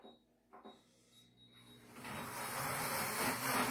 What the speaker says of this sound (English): So, we're going to put this in the blender.